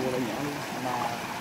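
Small stream trickling in the Truong Son jungle, a steady, close babble of running water with voices talking over it.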